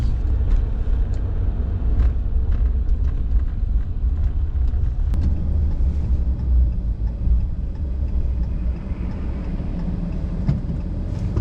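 A Ram EcoDiesel pickup truck's engine rumbles steadily and revs up as it pulls away from a complete stop, with a broad low roar lasting throughout and faint road noise mixed in.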